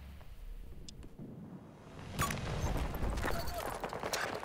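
Gunfire in the video game Battlefield 2042, faint, distant shots and bursts popping under a low background rumble, growing slightly denser partway through.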